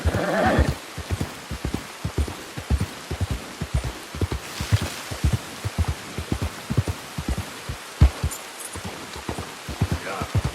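A horse in Red Dead Redemption 2 gives a short whinny at the start, then steady, close clip-clop hoofbeats continue over a constant hiss of falling rain.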